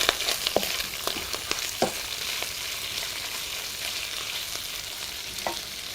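Potatoes fry in a pan with a steady broadband sizzle, while a utensil stirs them in several short scraping strokes spread through the clip, close by and with no talking.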